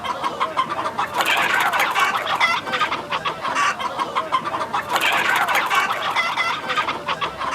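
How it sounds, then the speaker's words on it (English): Two trained fighting cocks clash in a cockfighting ring in a Japanese video game, with loud, continuous frantic clucking, squawking and flapping, close and dense throughout, with an occasional crow. "a pair of trained fighting cocks are released and viciously attack each other"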